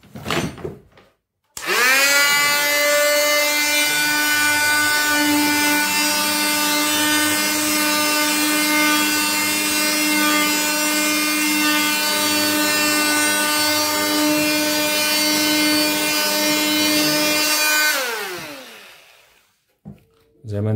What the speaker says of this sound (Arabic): هنجرب معاكم دلوقتي الصنفرة اهي